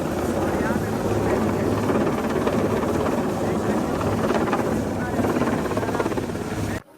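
A navy helicopter flies overhead at an Indian Navy Day celebration in Mumbai, its steady rotor roar loud and continuous for the whole stretch before cutting off abruptly at the end.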